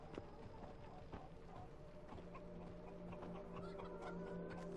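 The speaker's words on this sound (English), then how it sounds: "apparently I own chickens" Chickens cluck on an estate in The Witcher 3: Blood and Wine, with scattered short clucks and hoof-like clops over a quiet game ambience and faint music tones, moderately soft throughout.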